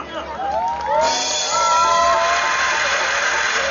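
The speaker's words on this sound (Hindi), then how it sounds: "तालियां बजा दीजिए इन लोगों के लिए" A concert crowd cheers and whoops loudly at a show in Bahria Town, with a steady wash of noise, rising whistles, and voices mixed throughout.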